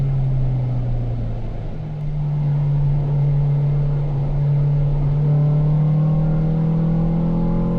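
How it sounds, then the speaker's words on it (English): A Ford Fiesta ST fitted with Mountune inlet cams and a Mountune exhaust runs on a race track, its engine droning loud and close at a steady, slowly rising pitch, with a brief dip as it lifts off, and no voices. "Now I think I'll be quiet and let you guys listen to the car."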